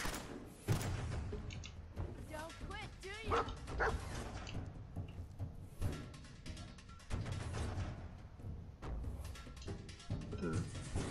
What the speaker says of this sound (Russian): Собачка молодец, справляется с своей работой.